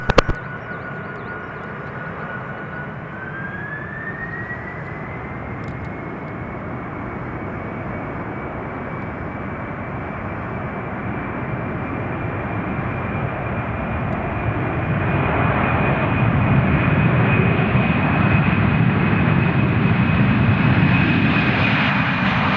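A Japan Air airliner takes off from runway 34 at Kagoshima Airport in heavy wind, its engines a continuous roar with a rising whine that swells louder as it accelerates, heard from a distance over gusty air.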